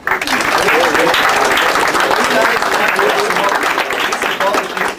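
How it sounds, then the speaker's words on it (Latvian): Loud, sustained applause from an audience at a business semifinalist awards ceremony, dense clapping filling the whole stretch with voices mixed in under it. "Tā kā aplausus šiem cilvēkiem"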